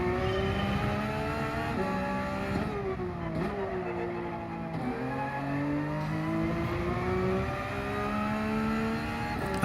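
A Porsche 992 GT3 R race car lapping in Gran Turismo 7, its engine howling steadily and climbing through gears with repeated upshifts and dips under braking, loud and continuous throughout.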